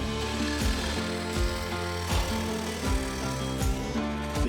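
A woodturning lathe cuts the outside of a segmented wooden egg blank in a four-jaw chuck, with a steady motor hum and regular rhythmic thumps from the tool catching flat spots, close and unaccompanied.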